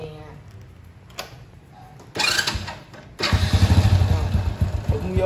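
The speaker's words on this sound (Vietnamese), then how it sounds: "Cái Way Thái này cũng vậy, máy nó cũng cực kỳ êm, mình lên máy cho các bạn nghe." A Honda Wave Thai motorcycle starts up: quiet ticking, a brief cranking burst, then the engine catches and settles into a steady, smooth idle close by.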